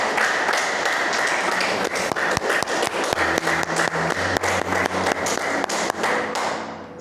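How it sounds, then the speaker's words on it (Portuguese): A church congregation claps during a sermon, sustained applause with sharp individual claps and some rhythmic beating, carrying on steadily before tapering off. "Mas essas palmas é para o Espírito Santo."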